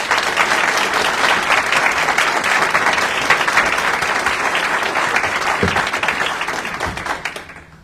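An audience at a Navy change of command ceremony applauds to welcome a rear admiral to the podium, a dense, loud wash of many hands clapping that holds steady for several seconds, then thins and fades out.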